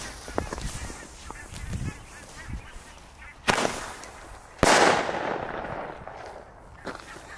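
Thunder King firecrackers going off in snow outdoors: two sharp, loud bangs a second apart, the second bursting with a crackling tail that fades, amid scattered distant pops and faint background noise.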